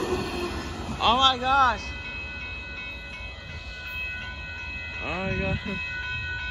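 A northbound BNSF mixed freight train rumbles past at a road crossing, a steady rolling drone with squealing wheel tones rising twice, while a person nearby exclaims over it.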